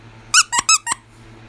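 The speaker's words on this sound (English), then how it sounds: "I am now wondering if he was meant to be a dog toy because he squeaks" An old dolphin hand puppet that doubles as a squeaky toy gives four sharp, bright squeaks in quick succession, close and loud in a quiet room.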